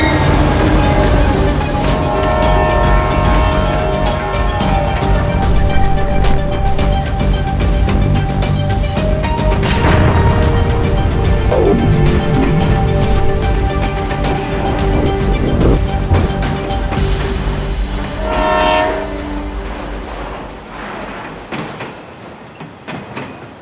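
The Punjab Mail passenger train runs at speed with a loud, continuous rumble, clattering wheels and creaking carriages heard up close. Brief squeals and whistle-like tones cut through the noise before it eases slightly near the end.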